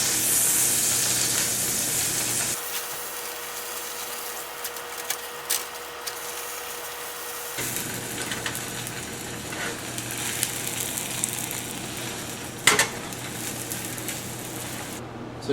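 Meat sizzles in butter in a frying pan for a grilled cheese, a steady close hiss and crackle with occasional clicks and scrapes and no talking.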